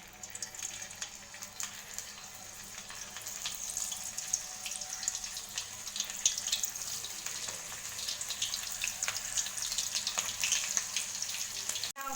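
Cauliflower pieces frying in hot mustard oil: a dense, continuous crackling sizzle with bright spitting pops throughout, moderately quiet and steady, ending with a brief clatter.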